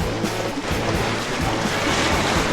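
Sea waves at a rocky fishing shore in Wakayama with a typhoon approaching, a continuous loud wash of surf and wind noise with no pauses, close and alone.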